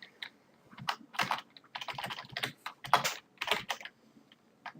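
Fingers type on a computer keyboard with irregular bursts of sharp key clicks and short pauses, close and distinct, with no talking over it.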